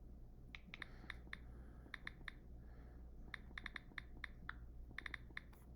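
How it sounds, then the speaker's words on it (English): Fingers tapping on a phone touchscreen, quick clusters of light clicks and taps in irregular bursts over a quiet room hum. "You can hear me typing on my phone."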